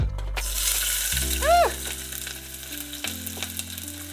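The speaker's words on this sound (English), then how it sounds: "So I'll be cooking our ginger, our garlic, and our onions on medium-high heat" Ginger, garlic and onions sautéing in a hot pan over medium-high heat at a beach cookout, a loud continuous sizzle with a brief rising whistle-like tone and background music, no talk.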